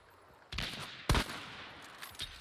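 Video game gunfire in two loud close bursts, the second sharper, followed by fainter shots trailing off in an online shooter match.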